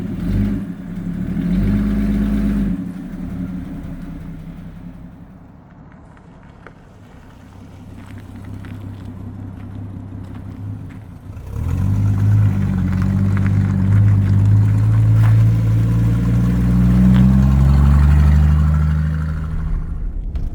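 A 1969 Ford Falcon, back on the road after sitting over 40 years, drives with a steady low engine drone and heavy wind rumble, easing off midway then swelling louder as it picks up speed, no talking.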